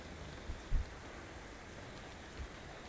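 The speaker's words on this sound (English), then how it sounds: "It's raining." Steady rain falls in the video game DayZ, a soft continuous hiss with a few low thuds, quiet throughout.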